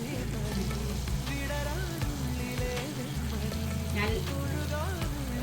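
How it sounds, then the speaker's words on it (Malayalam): A steady bubbling sizzle from a pan of thick date pickle boiling on the stove, continuous and close. "ഇത് ഈന്തപ്പഴം ഇട്ടതിന് ശേഷം തിളച്ചിട്ടുണ്ട്."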